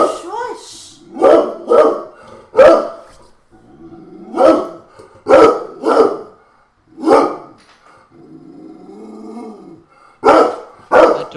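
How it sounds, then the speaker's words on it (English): A dog barks repeatedly in short, loud, close bursts, with a few growls and yips between the barks in an otherwise quiet room. "That dog is recording our podcast."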